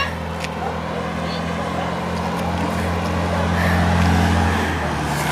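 A car arriving and rolling past, a steady close engine and road rumble that swells slightly, with people speaking nearby.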